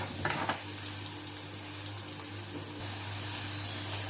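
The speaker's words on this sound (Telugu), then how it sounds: "ఆనియన్ అయితే వేగిపోయింది." Chopped onion frying in a pan for a carrot fry, a steady close sizzle with a few light scrapes near the start, no voices.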